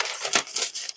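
Scissors cut through a sheet of paper in quick rustling snips, close and fairly quiet, with no talking.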